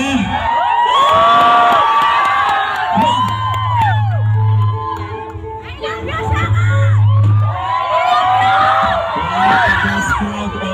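A packed crowd at a band concert screams and cheers loudly, with high-pitched whoops and shouts rising in waves under a low bass drone.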